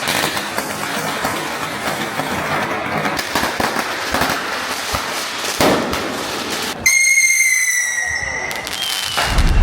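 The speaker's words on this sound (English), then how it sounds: "you can hear firecrackers going off everywhere." Firecrackers exploding at the Fallas festival in Valencia, Spain: a dense, continuous crackle of rapid bangs from all around, then a sustained whistling tone rising over the bursts near the end.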